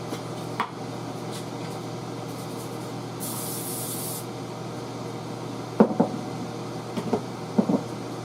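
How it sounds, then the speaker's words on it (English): A single short hiss of cooking oil from a spray can lasts about a second in a quiet room, followed later by a few light clicks and knocks. "going to spray this with oil"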